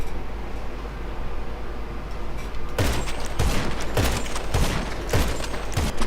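Sniper rifle shots in GTA Online: a rapid run of about seven sharp, booming shots in the second half, standing out above a steady background hiss.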